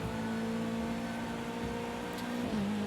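A race car engine revving in Project CARS 2 career mode, a sustained droning whine with a steady pitch that briefly shifts near the end, heard alone at moderate level.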